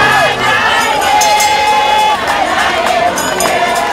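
A large crowd chants and sings in the rain amid a heavy police presence, the many voices blending into a loud, continuous, rousing roar with rising shouted phrases.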